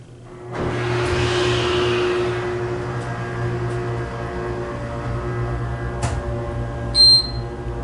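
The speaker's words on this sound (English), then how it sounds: "Listen to this motor." An Otis Hydrofit machine-room-less hydraulic elevator motor at a Holiday Inn Express in Strasburg, Pennsylvania starts up and runs as a steady close hum with a strong low drone, with a couple of sharp clicks and a short chime near the end.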